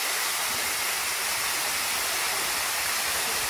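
A river rushing during the Malaysian rainy season, heard while heading upstream toward a waterfall: a steady, dense, close wash of water noise with no pauses and no voices.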